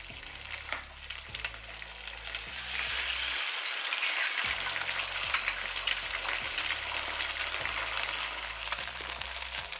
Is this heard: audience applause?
no